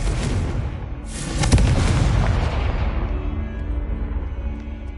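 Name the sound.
Confringo blasting spell explosion in Harry Potter video game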